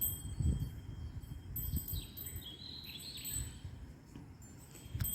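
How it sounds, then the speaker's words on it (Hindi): Several kinds of birds chirp faintly during a quiet early morning before dawn, thin high calls scattered over a low background rumble, distant and sparse with no voices. "उधर से आपको चिड़ियाओं की भी आवाज़ आ रही है"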